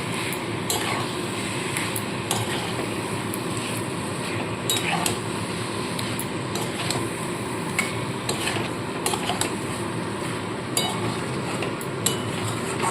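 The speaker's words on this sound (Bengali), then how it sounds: "ভেজে রাখা আলু পটলটা দিয়ে দিচ্ছি ভালো করে মশলার সাথে মাখিয়ে নিতে হবে" Fried potatoes and pointed gourd are stirred into spice paste in a pan for potol chingri, with steady scraping and clinking of a spoon against metal over a soft sizzle, continuous and close.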